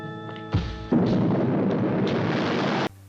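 An explosion from the Doctor Who serial The Keys of Marinus, set off when a fake key is inserted into a computer, bursts in as a loud, close, sustained roaring blast lasting about two seconds before cutting off abruptly.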